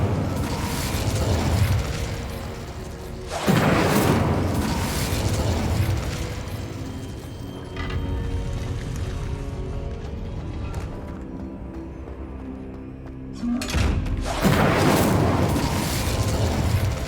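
The Incendio fire spell in Hogwarts Legacy bursts out in loud whooshing blasts near 3.5 and 14 seconds, each followed by a crackling roar that fades away. Quieter mechanical rumbles fill the gaps between them.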